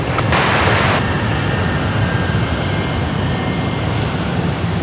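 A Boeing 717 airliner at Sydney Airport, a loud, close, continuous roar of jet engines with a brief brighter whine at the start, steady throughout.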